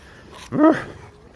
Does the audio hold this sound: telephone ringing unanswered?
no